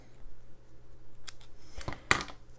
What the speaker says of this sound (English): then I'm going to just snip the thread right there